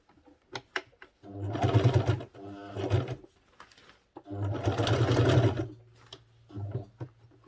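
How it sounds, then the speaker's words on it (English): An electric sewing machine stitches fabric for a men's senator outfit in two loud, steady bursts of rapid whirring, separated by short pauses with small clicks and handling noises, close to the microphone. "So I'll now sew it 2 inches."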